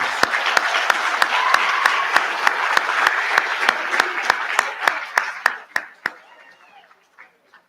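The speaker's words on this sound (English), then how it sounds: "one last big round of applause to our 8th graders, please" Applause for 8th graders at a school recognition ceremony, a room of hands clapping with a sharp rhythmic beat of unison claps, loud and steady before tapering off into a few scattered final claps.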